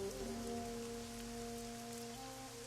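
Rain falls on the city streets of Wapoa Gardens in the video game Shadowrun: Hong Kong, a steady faint hiss beneath sustained synth tones, with no voices.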